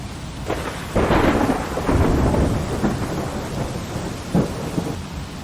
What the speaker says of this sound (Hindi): यहाँ तो तूफान आता हुआ दिखाई दे रहा है। मौसम बहुत खराब हो चुका है। इतनी तेज मूसलाधार वर्षा!